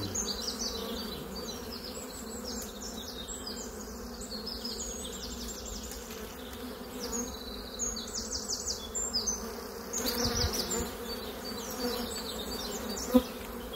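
Bees swarm and buzz above an opened hive, a dense continuous hum with shifting higher whines of individual insects passing close, and a brief knock near the end.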